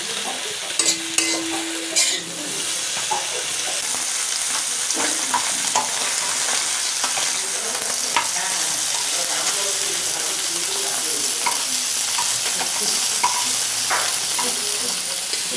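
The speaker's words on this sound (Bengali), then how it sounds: "দিয়ে পাঁচফোড়ন দিয়ে ভালো করে ভেজে নিয়েছি লাল লাল করে" Cauliflower, potatoes and tomatoes fry with green chilli and panch phoron in a pan, giving a loud, steady sizzle close by, with spatula scrapes and clinks scattered throughout.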